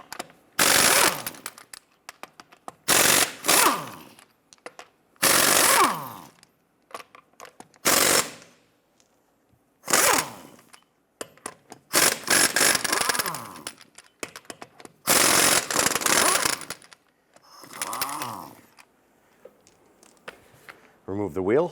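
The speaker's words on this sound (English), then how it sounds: "use your 22mm socket to loosen and remove the lug nuts" A 22mm socket and tool breaks loose and spins off the lug nuts on a 2015-2020 Cadillac Escalade wheel in a series of loud rattling impact bursts separated by pauses, with a voice talking between them.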